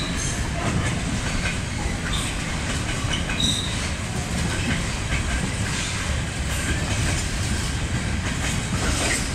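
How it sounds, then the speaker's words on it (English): A fully loaded container freight train, hauled by a Class 66 locomotive, rolls steadily past close by at Eastleigh station, a continuous heavy rumble with rhythmic clacking of wheels over rail joints. "quite a fully loaded container train though"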